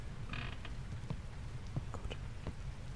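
Door creaking as it is unlocked in the horror game Quiet Basement, a short metallic latch click followed by a few faint creaks and ticks over a low ambient hum.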